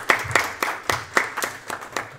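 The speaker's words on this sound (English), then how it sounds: "Warm applause, please." A small audience at a Scala meetup gives brief applause, a handful of separate claps landing in an uneven rhythm, close and moderately loud, with no talking.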